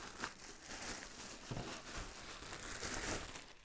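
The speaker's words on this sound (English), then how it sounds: "It is wrapped right now, so let's unwrap it" Plastic wrap is peeled off an XGODY Sail 1 projector, giving a quiet, continuous crinkling and crackling with a few sharper rustles.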